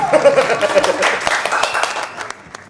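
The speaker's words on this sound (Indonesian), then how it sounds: "Oke, boleh ada backsound tepuk tangan." Short burst of applause played as a backsound on an Indonesian talk show, dense clapping fading away over about two seconds, with a voice briefly audible at the start.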